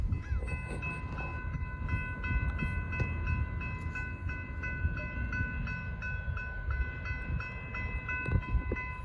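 A southbound Norfolk Southern freight train with a Tier 4 locomotive in the lead passes on the Charlotte District. It makes a steady, fairly loud rumble with faint sustained high tones throughout, and no one speaks.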